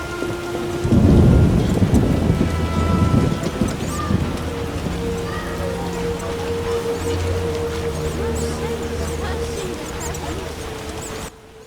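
Heavy rain and rolling thunder in The Witcher video game: a loud thunder rumble early, then steady downpour pattering on surfaces, with game music and a voice heard briefly.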